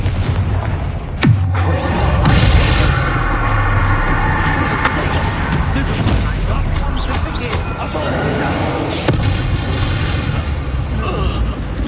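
A Confringo fire spell explodes in Hogwarts Legacy amid a fight with Ashwinders, with a sharp blast followed by booming impacts and continuous combat noise, and voices talking through the chaos.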